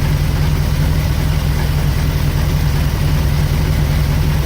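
A 1974 Chevrolet C65 truck with a 366 engine idles steadily and loudly up close, a deep, even low rumble that holds without changing throughout, with no one speaking.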